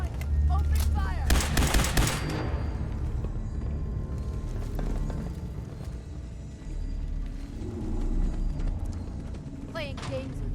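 Gunfire in the video game Fallout 4, a dense burst of rapid shots early on followed by scattered cracks over a rumbling battle bed, with voices heard around it.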